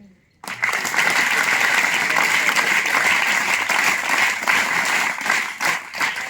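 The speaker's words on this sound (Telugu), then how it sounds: "triple claps 3 times" A school audience at an event on preventing child marriage breaks into loud, dense applause after a short silence, the clapping sustained and crowded rather than split into distinct triple beats.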